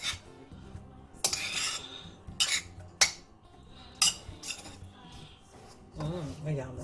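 A spoon clinking and scraping in a dish while mixing attiéké with garlic powder, with several bright metallic scrapes and taps at irregular intervals, close and fairly soft, and faint background sounds in between.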